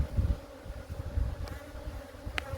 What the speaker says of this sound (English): these bees are a little bit more defensive today. They're obviously able to fly